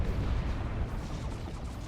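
Dense, continuous battle din from the real-time strategy game Dawn of War 2, with grenade and artillery-like blasts blurring into a steady rumble throughout, with no single blast standing out.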